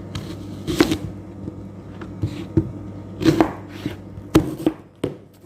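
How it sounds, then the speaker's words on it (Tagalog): An onion is sliced into small pieces with a knife, a series of irregular, crisp chopping taps on a board, close and clear with no speech. "itong onion guys, slicein siya ng maliliit ha"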